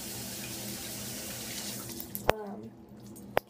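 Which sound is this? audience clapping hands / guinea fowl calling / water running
water running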